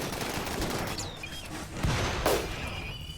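Gunfire in RimWorld, with scattered shots and a couple of sharper bursts standing out over a low rumbling background, fairly quiet overall and with no talk.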